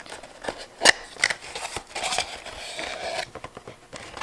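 A knife slices through the cardboard packaging of a Hohner Special 20 Progressive harmonica, giving a close, quiet run of scratchy cuts and crinkles with one sharper snap near the start and no talking.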